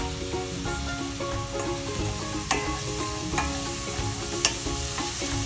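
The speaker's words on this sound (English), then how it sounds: "Now let's saute them up." Curry leaves, coriander leaves and green chilies saute with onions in a pan for crispy chicken cutlets, making a continuous close sizzle with occasional sharp clinks of a utensil against the pan.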